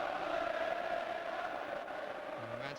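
A distant, muffled roar of a football crowd applauding and cheering at the 1990 FA Cup semi-final replay between Manchester United and Oldham Athletic during extra time, a dense wash of noise that holds steady throughout.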